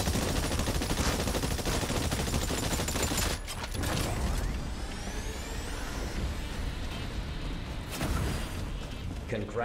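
Gunfire in the video game Exoprimal during a live fire exercise: dense, continuous rapid shooting with heavy bursts and booms, loud and close, with a voice speaking at points.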